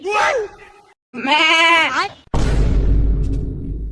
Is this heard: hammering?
no